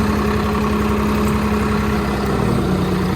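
A Swaraj 969 tractor hitched to an MB plough runs with a loud, steady, close diesel drone that holds constant throughout, with no other sounds over it.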